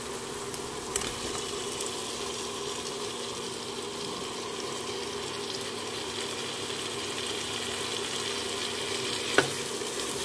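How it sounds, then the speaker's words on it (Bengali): Fried potatoes sit in a pan of cooked spice masala, giving off a low, steady sizzle with a few faint clicks of a utensil against the pan. "এবারে আমি ভেজে রাখা আলুগুলো দিয়ে দেবো।"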